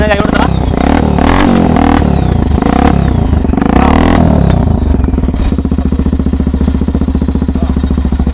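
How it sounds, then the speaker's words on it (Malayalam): A handmade quad bike fitted with a Pulsar motorcycle engine revs loudly up close, its deep, bassy exhaust note rising and falling, then settling into a steady throbbing idle. "അപ്പോൾ ഇതാണ് ഇതിൻ്റെ എക്സോസ്റ്റ് നോട്ട് എന്ന് പറയുകയാണെങ്കിൽ അടിപൊളി സൗണ്ട് ആട്ടോ."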